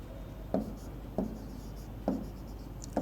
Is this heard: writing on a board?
yes